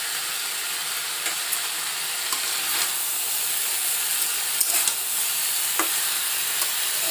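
Mixed vegetables fry in a pan, giving a continuous loud sizzle and hiss with repeated scraping clicks as they are stirred.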